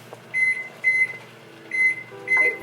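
Four short electronic timer beeps in a kitchen, evenly spaced and fairly loud, sounding over a low steady hum while a pot is at a rolling boil.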